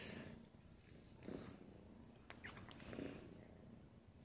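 A cat purring on a lap makes a quiet, close, low rumble that swells softly in slow rhythmic waves, with no voices.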